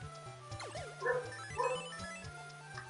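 A cartoon dog in the Klonoa Heroes video game gives a few short yipping barks over bouncy game music.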